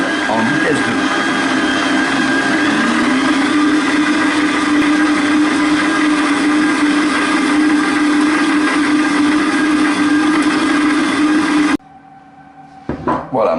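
A stand mixer kneading brioche dough at speed 2 runs with a steady, loud motor hum and a rhythmic dough-slapping churn for about twelve seconds, then cuts off, followed by faint handling noises.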